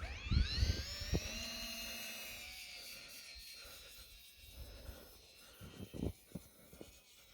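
Small UMX Twin Otter RC float plane motor whining as it taxis across snow at night, a high sustained electric buzz that rises and falls with throttle, near and fairly quiet, with handling thumps and bumps.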